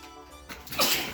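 A single short sneeze bursts out near the end, close and sharp, after a brief quiet moment.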